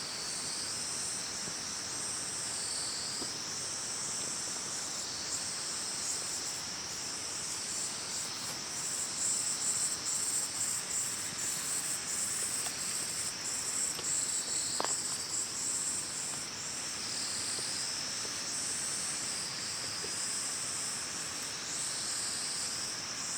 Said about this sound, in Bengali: এখানের আওয়াজটা জাস্ট ফিল করো, নেচারের আওয়াজটা, ঝিঝি পোকার আওয়াজ, আর এখানে ঝর্ণা পড়ছে সেই আওয়াজটা জাস্ট তোমরা ফিল করো।